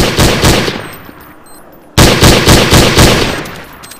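Rapid automatic gunfire from the game Counter-Strike: Source, loud and close, in two sustained bursts separated by a short lull, the second burst starting abruptly and rattling on to the end.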